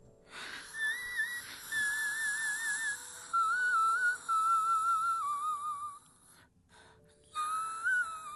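Controlled breathy exhale from a female singer, isolated in the vocal stem of a song, a soft airy hiss sustained beneath thin whistle-like sung tones that drop out briefly near the end.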